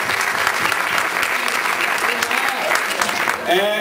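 Loud, dense audience applause during a Sindhi comedy play, with cheering voices mixed in and a voice starting to speak over the clapping near the end.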